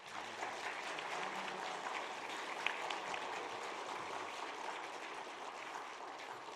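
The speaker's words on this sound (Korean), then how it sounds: "한번 우리 박수하겠습니다." A church congregation at a Sunday worship service claps together, a soft, moderately distant patter of many hands that stays even for several seconds.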